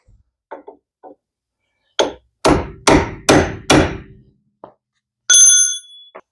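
Hammer striking a punch to dimple a car axle nut on a Chevrolet Aveo: a few light taps, then five loud, ringing metallic blows in a steady rhythm, followed by a bright clinking ring.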